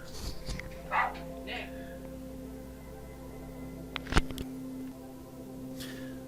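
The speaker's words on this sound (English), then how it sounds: "I had to deal with something involving barking dogs." Dogs bark and yip at a distance, a few scattered outbursts separated by pauses, over a low steady background hum.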